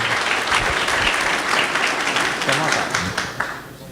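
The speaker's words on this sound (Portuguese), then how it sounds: "eu gostaria até de uma salva de palmas para ele aqui" A lecture audience breaks into warm applause, a thick burst of clapping from many hands that holds strong for a few seconds, then thins out with a few scattered claps near the end.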